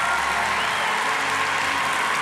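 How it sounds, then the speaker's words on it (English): A church congregation claps and cheers in a steady, dense wash of applause that fills the space for a couple of seconds. "Would you stand up right now so we could cheer and clap if you gave your life to Jesus today?"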